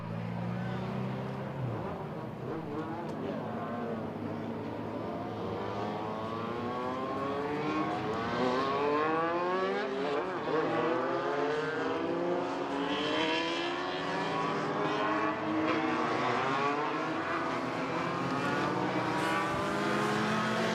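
Race cars in a Legend heat race roll out onto the Midvale Speedway track in Ohio, a steady layered engine drone with rising and falling pitches from several cars, continuous and fairly loud throughout.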